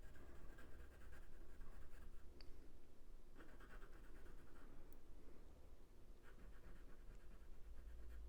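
A pencil scratches across paper while bark texture is shaded on a robin drawing, steady close rasping strokes in short repeated bursts, quiet with no voices.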